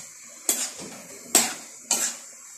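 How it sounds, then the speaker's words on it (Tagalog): Three separate clatters of a utensil scraping and knocking against a pan as sliced mushroom and broccoli are stirred together, each stroke a short bright clank followed by a brief rattle, with quiet gaps between. "Kailangan natin siya ihalo, ikot."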